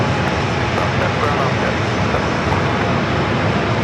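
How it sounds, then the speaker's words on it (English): An American Airlines Boeing 737-800 bound for Chicago O'Hare at San Diego airport, a loud, steady broadband engine roar at takeoff power, with radio voices under the noise. "737-800 with American heading to Chicago O'Hare up next for takeoff."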